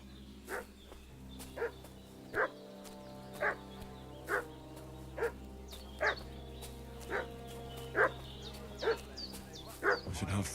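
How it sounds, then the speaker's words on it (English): A dog in the medieval game Kingdom Come Deliverance 2 barks repeatedly at a steady pace, about a dozen separate woofs at moderate distance over a low ambient game drone. "What's that dog making such a fuss about?"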